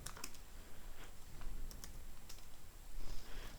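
Rapid keystrokes on a computer keyboard while code is typed, irregular clicks in quick bursts with short pauses, close and fairly quiet over a faint room hiss.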